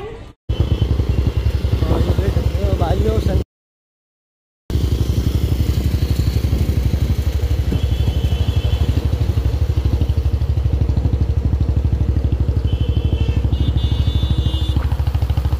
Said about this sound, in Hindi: और ये लगी हमारी बाइक।